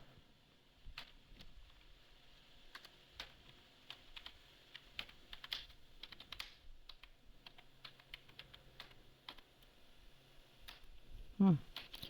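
Typing on a computer keyboard while working in MS Word: scattered quick key clicks in irregular bursts, fairly faint, with a louder thump near the end.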